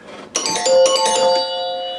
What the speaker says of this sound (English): this is a solid state game, but it's got chimes in it